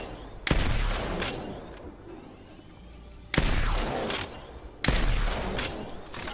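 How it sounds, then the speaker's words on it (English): Peacekeeper shotgun from Apex Legends firing three loud, booming shots spaced more than a second apart, each with a sharp crack and a long decaying tail, with no talking. "It's time for my possibly most used shotgun, the Peacekeeper"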